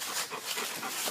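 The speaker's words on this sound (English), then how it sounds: "and my dog with me" A dog pants quickly and close by in short rhythmic breaths, with faint whimpering mixed in. Behind it is an outdoor setting near an old 1960 Ford F600 dump truck.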